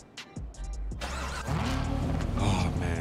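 A Corvette in GTA 5 starts up and pulls away, its engine settling into a steady, loud, rumbling drive after a few short clicks, heard up close with no talking.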